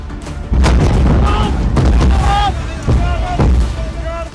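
Bombs from an Israeli airstrike hit Gaza's Al-Shifa hospital, sending several loud, heavy booms in quick succession, with rumbling between blasts and voices faintly heard beneath.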